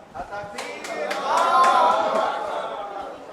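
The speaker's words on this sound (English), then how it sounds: "Please, I'm begging, help me clap for Baba" Audience clapping at a school session, a burst of applause swelling over about three seconds with scattered sharp claps and some voices mixed in.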